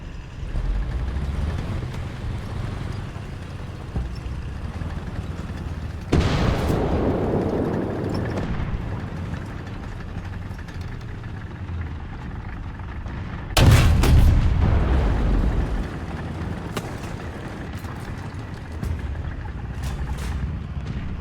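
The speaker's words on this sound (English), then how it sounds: "Artillery strike incoming." Artillery strike explosions in the War Thunder tank game, two heavy booming blasts about seven seconds apart over a steady rumbling battlefield background, the second one louder and closer, with no talking.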